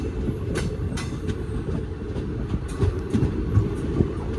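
A five-coach passenger train on the Erode–Mettur line rumbles close by, wheels clattering over rail joints in a rising rhythm as it quickly gathers speed.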